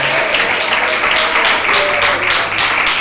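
A church congregation claps together at a Pentecostal-style service in Irajá, producing dense, steady applause that fills the room at full loudness throughout, with a slight rhythmic pulse.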